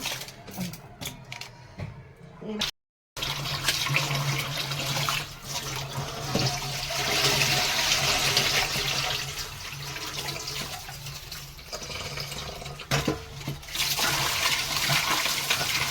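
Tap water runs hard and steadily into a sink while fish pieces are washed, a close, loud rushing stream broken by one brief gap and a few splashes.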